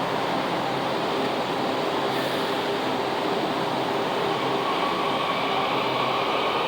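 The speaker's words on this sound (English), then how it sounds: "Oh, step back, train's leaving." A WMATA 6000 or 7000 series Yellow Line metro train leaves the station at Huntington, a steady broad rushing roar of wheels and motors with a faint whine, heard close and continuous.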